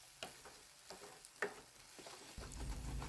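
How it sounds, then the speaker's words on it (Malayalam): Scrambled egg bhurji stirred in a hot pan: a spoon scrapes in a few soft, spaced strokes over a low sizzle that swells louder near the end. "ഇതേപോലെ നന്നായിട്ട് മിക്സ് ചെയ്യാം."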